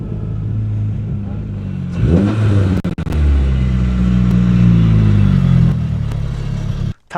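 Nissan S13 car running without a tune and rev-limited to 4,000 rpm, its engine revving up in a rising surge, then holding a loud steady drone with clunks and rattles, close by, with people talking.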